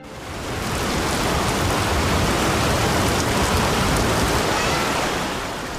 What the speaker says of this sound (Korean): 아침부터 억수같이 쏟아지는 비가 쓰레기 마을 턴도를 적십니다